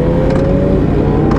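A tuned superbike, either a Yamaha R1M or a Kawasaki Ninja ZX-10R, holds a loud, close, sustained engine roar throughout the brief burst.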